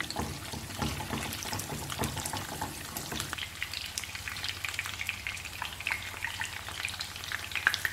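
King fish pieces fry in masala in a pan that is shaken, giving a constant crackling sizzle with scraping and jostling noises early on before settling into steady frying.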